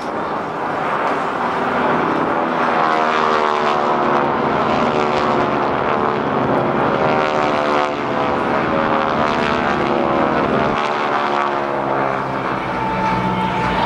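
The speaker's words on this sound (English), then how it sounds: "Today, these aircraft have taken on a new role of writing giant messages in the sky" Propeller planes of the GEICO Skytypers team fly past at the 2008 NAS Oceana airshow, a loud, continuous droning roar that swells and shifts as the formation passes overhead.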